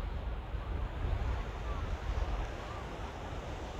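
Waves breaking on Meloneras beach in Maspalomas, Gran Canaria, a steady broadband wash of surf mixed with wind buffeting the microphone, continuous and fairly faint with no voices.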